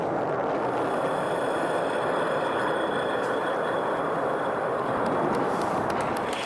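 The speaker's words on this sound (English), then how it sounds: "it's constantly adjusting the angle of the pitch and yaw of the main engine and maintaining roll with cold gas thrusters" A SpaceX test rocket hovers, its main engine giving a loud, steady, broadband roar close by with no letup, while cold gas thrusters hold its roll.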